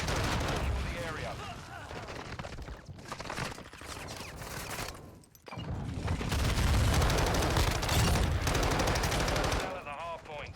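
Modern Warfare 2 gunfire in a Hardpoint match: loud, sustained automatic bursts and heavy shots with a brief lull midway, in a dense battle mix with voices over it.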